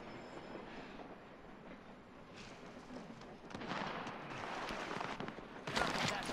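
A train rumbles past in a video game, a continuous rolling clatter that swells louder toward the end, with voices of players talking over it.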